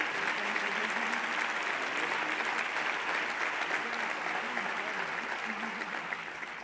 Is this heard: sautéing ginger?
no